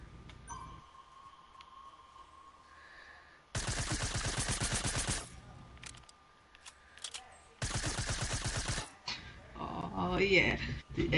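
Bursts of rapid automatic gunfire in a Fortnite zone wars match, two long volleys of evenly spaced shots standing out loud against quieter game sounds, with players talking between them.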